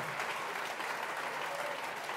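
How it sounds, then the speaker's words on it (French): A church congregation applauding the Lord during a bilingual evening service, a steady, even roar of many hands clapping together, fairly distant and continuous throughout. "Applaudissons le Seigneur ce soir."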